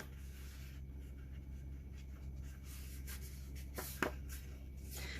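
Paper being folded along a line gives soft, quiet rustles and creases, with a couple of sharper crinkles near the end over a faint background hum.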